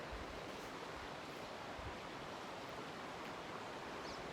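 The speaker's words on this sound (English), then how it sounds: "There's also a little runoff here as well." A small snowmelt runoff stream flows beside a mountain trail in Rocky Mountain National Park, heard as a faint, steady broadband wash with soft wind-like hiss throughout, no voices.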